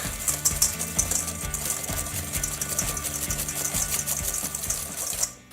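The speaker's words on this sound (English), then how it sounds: "So eggs, we're gonna whisk." Eggs are whisked in a bowl for a frittata, a fast, even run of close metallic clicks and taps that holds steady before stopping abruptly at the end.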